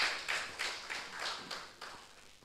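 Audience at a university research symposium applauding a speaker, heard faintly as a soft, distant patter of claps with a few louder pulses, fading out.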